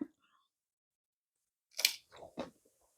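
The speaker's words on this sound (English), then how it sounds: "Can you hear the crunch?" A homemade air-fryer tortilla chip is bitten and chewed up close: a sharp crisp snap followed by two or three shorter crunches, in otherwise quiet surroundings.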